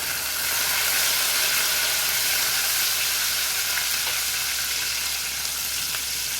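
Roughly chopped garlic, twenty to twenty-five cloves, hits hot oil in a pan for a dhaba-style spinach bhaji, giving a loud, close, continuous hissing sizzle that holds steady throughout, with faint stirring clicks and no talk.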